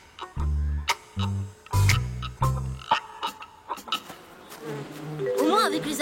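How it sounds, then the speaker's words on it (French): Buzzing bees drone in loud, uneven bursts close by, some long and some short, followed by softer chirping sounds. "Au moins avec les abeilles on est tranquille."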